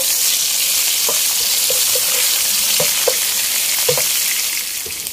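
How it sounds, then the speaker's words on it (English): Skillet potatoes fry in a pan with a steady, loud sizzle, while a spoon stirs them in irregular scraping clicks and taps that fade slightly at the end. "Okay, so you just stir it for a while."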